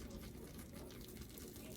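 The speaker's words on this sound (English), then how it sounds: "I'm going to take my wonderful custard, and I'm going to pour this custard" Custard is poured over sweet potatoes in a dish, a soft continuous liquid gushing and slopping sound, steady and close for the whole short moment.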